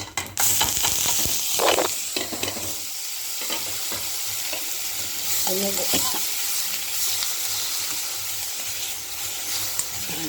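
Steady sizzling and crackling of gooseberries frying in a pan, with occasional stirring scrapes, heard up close and continuous.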